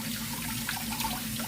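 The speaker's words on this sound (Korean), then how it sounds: "이렇게 쫙 씻어주고요." A sea cucumber is rinsed under running tap water, giving a steady, close splashing wash with small spatters and no voices.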